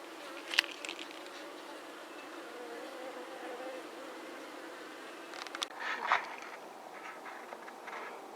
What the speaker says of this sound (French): les abeilles sur les cadres, sont agitées